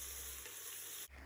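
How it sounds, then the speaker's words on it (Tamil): Onions and ginger-garlic paste sauté in hot oil for a vegetable biryani, giving a close, continuous sizzle and crackle that briefly softens near the end. "இது கூட 1 ஸ்பூன் இஞ்சி பூண்டு பேஸ்ட், இஞ்சி பூண்டு பேஸ்ட்டோட பச்சை வாசனை போகிற அளவுக்கு வதக்கிக்கலாம்"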